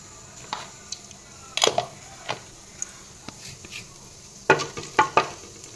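Whole cloves, cardamom and cinnamon sizzling in about 100 grams of hot oil, giving a soft frying hiss broken by sharp crackles and spoon clatters, with a cluster of louder pops toward the end.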